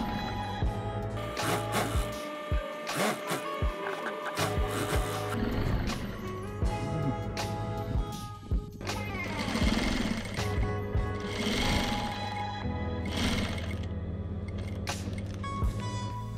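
A sewing machine runs in fast, loud stitching bursts as it sews a zipper with fabric tabs for a bicycle frame bag, its rattling whir continuing nearly throughout with brief slowdowns.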